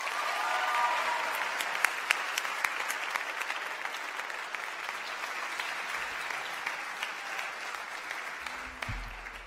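Sustained audience applause at an evening school ceremony after a new student body president is introduced, a dense wash of many clapping hands that stays steady and fairly distant, with a faint voice briefly near the end.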